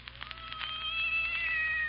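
Cat meowing in an old radio drama, a drawn-out rising and falling meow, close and clear over a faint hum, with no talking.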